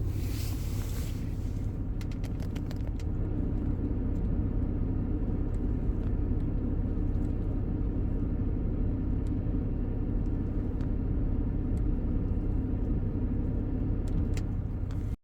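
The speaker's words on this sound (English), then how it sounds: "So like that is making Audi A6 Dpf Regeneration" An Audi A6 engine idling during DPF service regeneration, a heavy continuous low rumble that holds steady throughout with faint ticking on top, close and loud with no talk.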